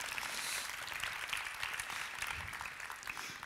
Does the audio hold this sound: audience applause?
yes